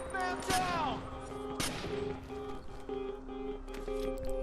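Gunfire in the Watch Dogs video game: a few sharp shots ring out near the start, followed by quieter in-game sounds and a faint tonal hum.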